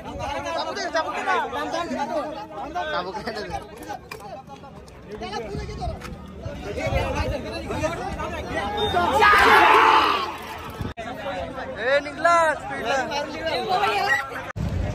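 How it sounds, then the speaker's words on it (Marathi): A large, dense crowd chatters and shouts at a busy outdoor festival procession, close and loud throughout, with a surge of noisy cheering near the middle and voices talking over it. "खूप जास्त गर्दी इथं."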